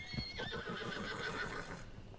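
A horse whinnies in Red Dead Redemption 2, a high wavering neigh over soft background noise and hoof sounds, fairly quiet and with no talking.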